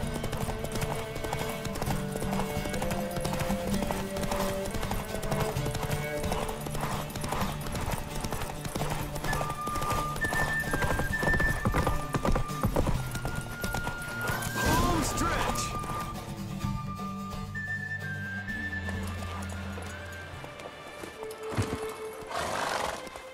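Roach, Geralt's horse in The Witcher 3, gallops with steady clip-clop hoofbeats and an occasional whinny, heard over in-game music and ambience during a race.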